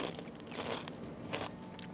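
Crisp crunching bites of a potato snack, close and fairly quiet, a few bursts over two seconds with light chewing noise between.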